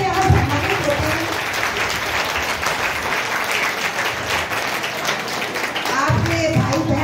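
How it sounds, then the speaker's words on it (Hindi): Loud, sustained audience clapping in a school hall as board exam toppers are honoured at Bal Bharti school in Sujangarh, with a voice cutting in near the end. "आप ताली बजाइए"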